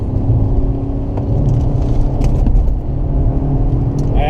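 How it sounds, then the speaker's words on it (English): A 2017 Infiniti Q50 2.0t rental car cruising a twisty road, its steady engine drone and road rumble filling the cabin at a constant level with slight revving swells. "driving a beautifully twisty road just to see how well this car does in the twisties"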